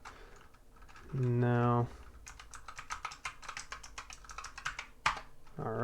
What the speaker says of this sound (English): And just type in your password.